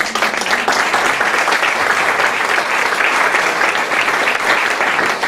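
Dense, steady applause from the audience at a healers' congress panel discussion, loud and sustained with no talk over it.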